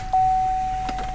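The power sliding rear window of a 2015–2019 GM K2XX pickup truck, its electric motor giving one short, steady whir lasting about a second, close and alone.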